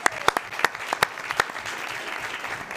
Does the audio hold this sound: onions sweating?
no